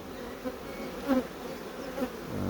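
Honeybees from a large swarm in a Nicot plastic hive drone in a steady low buzz during a colony inspection, with a few brief louder swells as bees pass close.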